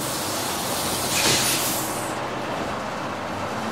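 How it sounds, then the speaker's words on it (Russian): A double-decker bus gives a broad, rushing hiss with a brief burst like an air-brake release near the start, then settles into a steady, fainter rumble. "Двухэтажный автобус."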